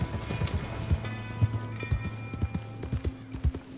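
Horse hooves in Red Dead Redemption 2 clip-clop in a steady, even trotting rhythm over a low droning background, close and clear.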